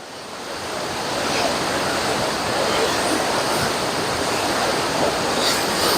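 Strong, steady rush of water splashing over and against the camera, a loud continuous roar with wind-like buffeting that swells in the first second and then holds without a break.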